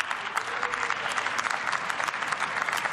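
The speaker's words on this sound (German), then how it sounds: "Applaus." Members of the German Bundestag applaud after a vote passes a cannabis decriminalisation bill, a crisp, continuous crackle of many hands in the chamber, fairly quiet and steady.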